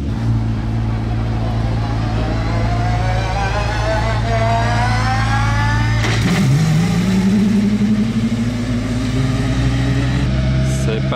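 An Aston Martin Valkyrie hypercar roars loudly as it launches from the start, its high-revving engine droning steadily and then climbing sharply in pitch as it accelerates away.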